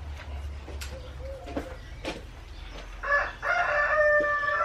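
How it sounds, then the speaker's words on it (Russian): A rooster crows loudly and close by on a rural smallholding in Bulgaria, after a few scattered clucks and quieter farmyard sounds, with the crow stretched out over the last second and a half. "Это наш петух-терминатор."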